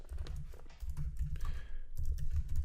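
Programming code typed on a computer keyboard, rapid steady key clatter close by with a brief pause midway, over a low background hum.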